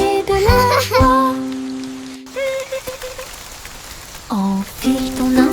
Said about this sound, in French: Les gouttes de pluie tombent avec un bruit sourd.